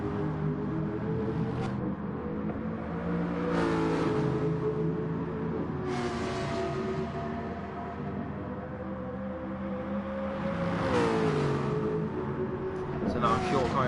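Race car engines in Gran Turismo 4 at the Sardegna circuit, droning and rising in pitch through acceleration with swells as cars pass, held under a commentator's continuous talk.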